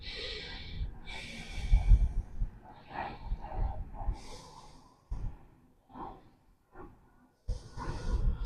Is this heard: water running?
no